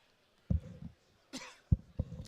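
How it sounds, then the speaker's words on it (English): A man clears his throat on a sports radio broadcast: a few short, gruff rasps and hacks close to the microphone, separated by near silence. "Excuse me, I had to clear my throat."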